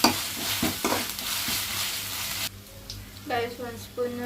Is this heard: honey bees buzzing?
no